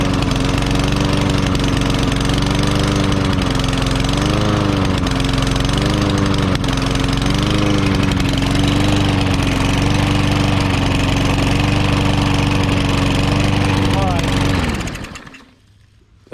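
A choked lawn mower engine with a partially clogged carburetor runs close and loud with a steady rough chug and slight surging pitch, then cuts out near the end.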